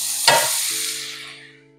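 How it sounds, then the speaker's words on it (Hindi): Masala-coated corn kernels drop into hot oil for deep-frying over a medium flame, setting off a sudden loud hiss that settles into a steady, bright sizzle and slowly fades, with a low hum underneath. "मीडियम फ्लेम पर फ्राई करेंगे गोल्डन और क्रिस्पी होने तक।"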